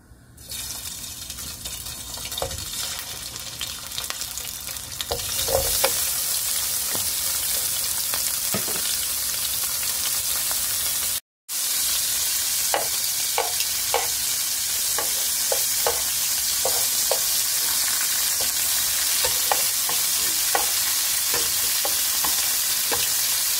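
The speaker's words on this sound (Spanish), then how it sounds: "Vamos a dorar una salchicha italiana para hacer unos sandwichitos después. Aceite de oliva. En un sartén precalentado." Italian sausage browning in olive oil in a preheated frying pan, a dense steady sizzle with scattered pops and crackles that grows louder after a few seconds and runs on continuously, briefly cut by a short gap.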